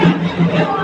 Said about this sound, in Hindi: कितना हेवी भीड़ हो चुका है यहाँ पे अब।